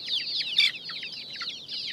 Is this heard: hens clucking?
yes